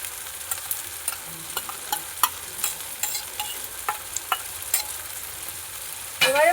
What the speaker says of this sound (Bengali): এবারে দিয়ে দেবো আদা রসুনের পেস্ট।